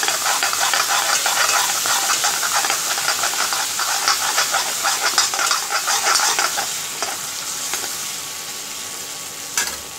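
Ginger paste, spices and coarsely crushed coriander stirred in a hot pan for Punjabi kadhi pakora, a loud continuous sizzle and hiss with scraping spoon strokes, close and alone without talk.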